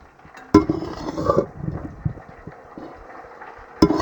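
A ladle scoops fried chicken out of a pan for pickle, giving two sharp metallic clinks near the start and end with softer scraping and rustling between, close and fairly loud.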